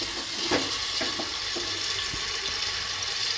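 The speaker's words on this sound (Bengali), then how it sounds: "তেলটা দিয়ে পেঁয়াজ রসুনটা আমি একটু লালচে করে ভেজে দিচ্ছি" Onion and garlic fry in oil inside a pressure cooker, a dense, even sizzle with a few soft stirring knocks, close and steady over a short stretch, with no talking.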